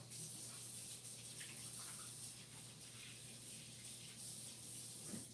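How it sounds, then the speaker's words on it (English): Tap water running steadily into a sink during handwashing, a quiet continuous hiss and splash with a low hum underneath, no one speaking. "I'm going to wash my hands real quick."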